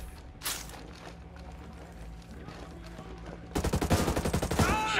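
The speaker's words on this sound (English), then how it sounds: "Shoot those assholes! Shoot them!" Rapid gunfire crackles in Ghost Recon Breakpoint, sparse shots first and then a loud, dense burst of automatic fire near the end.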